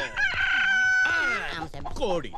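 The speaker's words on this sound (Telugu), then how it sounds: "కోడి కూసిందెక్కడ? కోడి కూసిందెక్కడ?" A rooster crows loudly and close by, one long drawn-out cock-a-doodle-doo followed by a shorter wavering call, heard in a Telugu comedy film scene.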